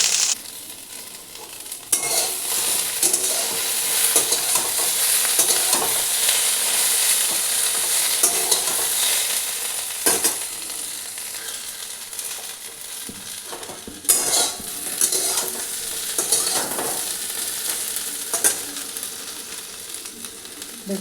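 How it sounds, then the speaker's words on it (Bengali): Okra frying and being stirred in a pan, a steady close sizzle with scraping strokes of a spatula and a few sharper clatters, no voices. "ভেন্ডিটা একটু ভালো করে ভাজবো।"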